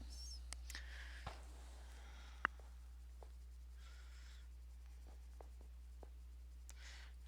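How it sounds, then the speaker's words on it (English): Colored pencils scratch and scrub across paper in short, soft bursts of strokes, close but quiet, with occasional light taps over a low steady hum. "I haven't used these Jojon colored pencils very much, but they don't seem to like this paper a whole lot"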